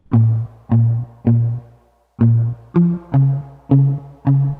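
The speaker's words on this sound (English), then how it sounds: "from here I added some movement with muted guitar" Muted guitar plucks in an Afrobeats track: eight short, damped chord stabs in a steady rhythm, with one brief pause partway through. No voices.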